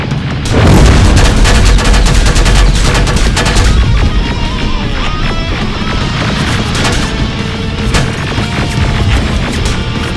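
Heavy gunfire and explosive booms in the shooter game Terminator Resistance, a loud, dense barrage of rapid shots and blasts that runs without a break, with the energy easing slightly over time.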